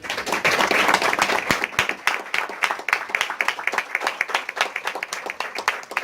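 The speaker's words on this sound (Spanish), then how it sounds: "queríamos hacerle este pequeño homenaje y un aplauso para él" An audience applauding in tribute at a talk, loud crisp clapping from many hands that starts dense, then thins into separate, rhythmic claps as it winds down.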